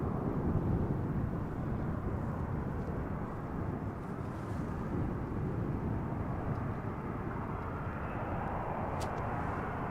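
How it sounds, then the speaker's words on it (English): An Embraer 190 airliner arrives at Amsterdam Schiphol Airport in crosswind, giving a steady, broad jet roar that holds evenly throughout at moderate distance, with no voices. "Embraer 190 entering the field of view from the left, coming in from, is that Stuttgart?"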